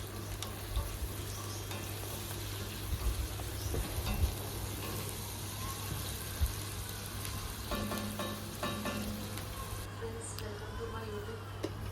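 Chicken gravy curry being stirred in a pan, with a steady frying sizzle running throughout and occasional scraping clicks of the spoon, moderately loud and close.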